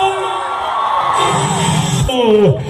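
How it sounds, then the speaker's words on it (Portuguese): A rodeo crowd whoops and cheers loudly in a short burst, with shouting voices mixed into the noise and no clear clapping rhythm. "só quem gostou dá um brinde, uma salva de palmas."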